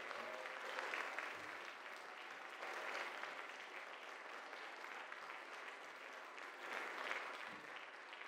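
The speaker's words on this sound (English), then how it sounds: "I'd like you to give them a big round of applause" An audience at a high school class night applauds the graduating class in steady, sustained clapping that swells slightly at moments and continues throughout, heard alone without talk.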